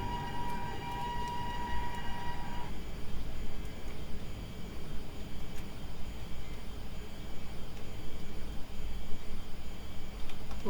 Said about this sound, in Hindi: अल्को लोकोमोटिव के साथ फिर से कोल एक्सप्रेस हमें क्रॉस करते हुए